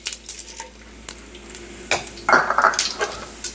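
Whole mace, cinnamon stick, cardamom, cumin, fennel seeds and cloves frying in a pan over moderate heat: a soft sizzle punctuated by scattered clicks and scrapes of a utensil stirring against the metal.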